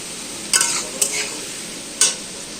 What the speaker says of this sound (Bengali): আলু ভাজা হচ্ছে দেখো